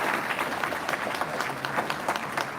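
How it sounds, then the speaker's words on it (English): An audience at the Okie Homesteading Expo applauds the musicians with a steady, dense patter of clapping throughout. "So let's give them a round of applause."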